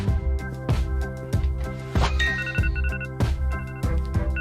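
A melodic electronic phone alarm tone rings out, repeating a bright chiming pattern roughly every half second, steady and fairly loud with no voices.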